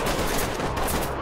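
Rapid game gunfire in a SWAT-style shooter, dense and sustained throughout with overlapping shots filling the short stretch, no talking.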